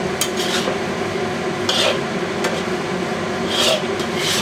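Chicken and vegetables are tossed in a stir fry pan, giving soft scraping and rubbing with a few brief clinks of utensil on metal, steady and close, with no talk.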